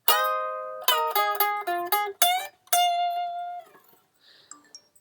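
Clean electric guitar lead from a song, a series of picked notes with bends sliding between pitches, close and moderately quiet, ending in a longer held note that fades out, no talking.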